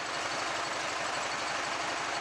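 The engine of a Deutz 6206 tractor runs steadily nearby, a constant broad rumbling roar with faint rapid low pulsing and no pauses.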